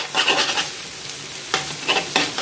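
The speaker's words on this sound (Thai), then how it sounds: "เราผัดให้เขาเข้ากันค่ะ" Glass noodles are stir-fried in a hot pan, with loud, close sizzling and quick scraping stirs in short bursts and a brief pause partway through.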